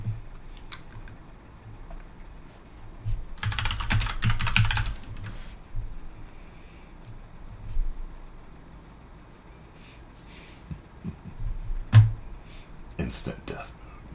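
Fast typing on a computer keyboard during a Type Racer round, a steady run of quick clicky keystrokes with denser bursts, heard close up under intermittent talking.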